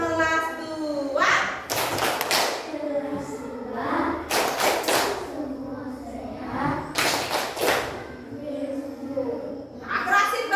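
Schoolchildren in a second-grade classroom perform a rhythmic group clapping chant, with bursts of many hands clapping in patterned sequences between bouts of chanted voices.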